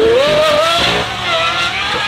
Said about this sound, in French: écoutez le bruit d'une Aston Martin